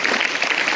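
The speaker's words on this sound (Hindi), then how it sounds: "आप इस पर दोबारा से ताली बजा सकते हैं।" Applause from an audience at a school event, a dense, steady wash of many hands clapping together, loud and continuous through the short moment with no voices standing out.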